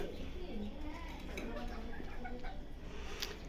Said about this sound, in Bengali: এইখানে আমার বেশ কিছু মাদি কবুতর রয়েছে